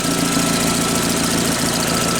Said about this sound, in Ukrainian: давайте спустимо і послухаємо, як працює двигун